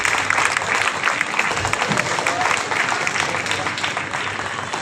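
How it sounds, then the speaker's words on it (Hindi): Applause at an archery competition award ceremony in Chaibasa: a loud crowd claps continuously throughout, dense and sustained, with no voices over it. "इनके लिए तालियों की गड़गड़ाहट कम नहीं होनी चाहिए।"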